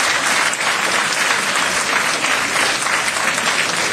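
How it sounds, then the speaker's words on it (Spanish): Loud, dense audience applause fills the hall for a live mariachi performance in Peru, a steady sustained roar of clapping with no pauses. "Esos aplausos de Perú para México."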